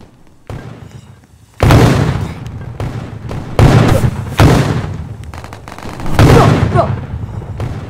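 Loud bursts of gunfire in the online shooter game Red Vs Blue Gun Battle, several rapid volleys close up with short gaps between them, no talking heard.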